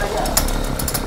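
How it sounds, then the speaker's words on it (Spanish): A chainsaw roars in a box-smashing video game. The buzzing motor is loud and close, lasting only about a second. "¡Ay, salía la motosierra ya!"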